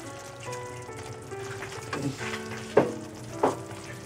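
Tomatoes with added milk sizzle and fry in a pan, a steady soft crackle with a few brief louder stirring clatters near the end.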